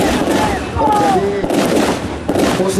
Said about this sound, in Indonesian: sementara mereka yang lain memberikan perlindungan tembakan